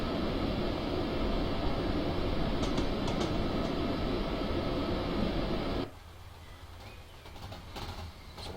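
ÖBB 1116 electric locomotive running in Train Simulator 2016 on the Semmering railway: a steady loud rolling roar with hiss for several seconds, then dropping abruptly to a quieter rumble with faint clicks.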